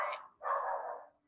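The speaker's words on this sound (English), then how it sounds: "Also, sorry, Padfoot's barking." A dog barks twice nearby in a quiet room, one short yelp followed by a longer, drawn-out bark.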